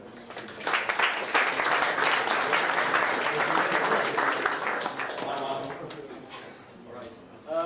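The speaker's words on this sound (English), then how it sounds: "So give him a round of applause." Sustained round of applause from a conference audience at a blockchain event, dense clapping filling the room for several seconds before tapering slightly, with a brief swell at the end.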